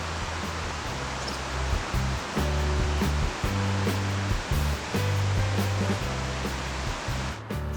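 Romanche river flowing steadily in an open landscape, a continuous broad wash of rushing water, loud and near, with low rhythmic rumbling pulses underneath and no voices.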